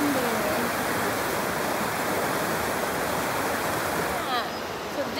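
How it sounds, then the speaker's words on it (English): Credit River current flowing past, a steady close rushing wash that holds even and loud throughout, with faint voices briefly audible near the start and end. "Whoa, the current of the river going in there."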